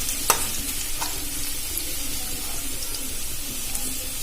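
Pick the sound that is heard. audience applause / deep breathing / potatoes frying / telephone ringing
potatoes frying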